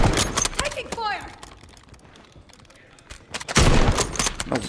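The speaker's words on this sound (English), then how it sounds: "Taking fire." Rapid automatic gunfire in the shooter Warzone 3, playing solo in quads: dense bursts of shots at the start, then a quieter stretch, and a loud sustained volley at the end, with game voices and a player talking in between.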